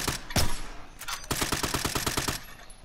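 Rapid automatic gunfire in Call of Duty: Modern Warfare, a couple of sharp single shots followed by a fast, evenly spaced burst of rounds, loud and close.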